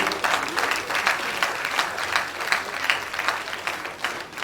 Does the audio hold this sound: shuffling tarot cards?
no